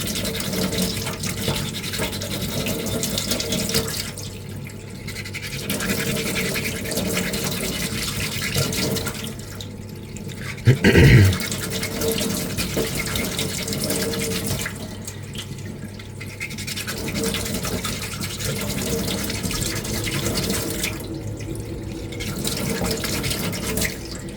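A rotary tool sands Cloud Strife cosplay finger armour, its steady high whine running continuously with brief dips in pressure, close and loud throughout.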